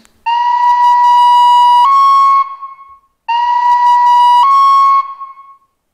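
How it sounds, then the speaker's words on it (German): A bright, steady whistle from a Märklin gauge 1 model of the SBB Ce 14201 locomotive sounds twice, each blast about two seconds long, shifting pitch slightly near its end before cutting off, with no other sound. "Zunächst mal die Pfeife, die in Abhängigkeit vom Tastendruck ertönt."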